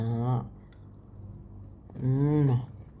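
Raw garlic cloves crunched during a lunch, with two bursts of chewing, one brief at the start and one longer near the end, mixed with close, voiced mouth sounds.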